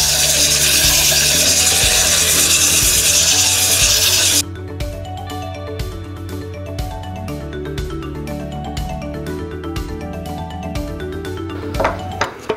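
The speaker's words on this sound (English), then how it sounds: "I wrapped the sandpaper in the same direction that the lathe is currently" Sandpaper wrapped around a small wooden dowel rubs against a wooden flower vase spinning on a lathe, first as a loud steady scratchy hiss over the motor's hum, then cutting off to leave the lathe's tonal whir with faint ringing pings.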